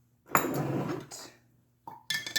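Stirring ginger bug soda in a glass gives a few clinks and scrapes of a utensil against the glass, close and moderately loud, in two short bursts separated by a pause.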